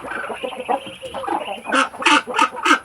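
Hungry breeder chickens clamor at feeding time, a busy overlapping chorus of clucks and honking calls that swells into several loud, rhythmic bursts near the end, close by with no talk.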